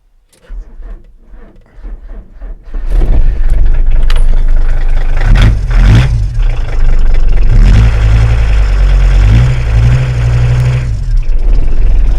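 An old car with a missing body and no lights starts up after a few quiet seconds, then its engine runs loudly and steadily with several sharp revs, close by.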